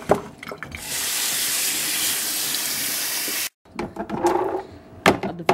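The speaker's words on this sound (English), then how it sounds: "I'm gonna strain the water off." Soaking water pours off cashews through a strainer in a loud, steady rush that stops abruptly, followed by a few clattering knocks and drips near the kitchen sink.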